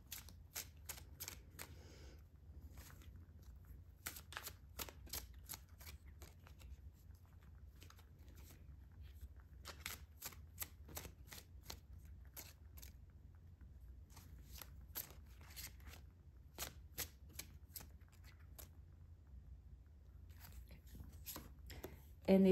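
Tarot cards are shuffled in quick bursts of crisp riffling clicks, stopping and starting over a low steady hum, with no talk.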